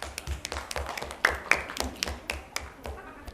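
Scattered hand claps from a classroom of students after a group presentation, a loose, uneven patter of moderate claps with faint voices mixed in.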